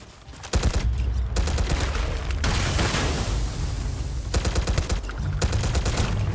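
Rapid automatic fire from the Hyena gun in Starfield, a loud sustained burst of close shots that runs almost nonstop, with a dense roaring stretch in the middle.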